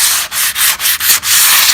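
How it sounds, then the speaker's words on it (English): Wood sanded by hand with 400 grit sticky-back sandpaper on a sanding block, pallet wood for shelves; loud, close rhythmic scratchy strokes with brief pauses between about five passes, no voices. "Just let the sanding block do the job."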